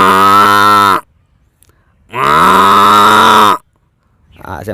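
A man imitates a buffalo's deep, drawn-out moo with his voice, giving two long, loud calls separated by a short pause, with nothing else audible around them.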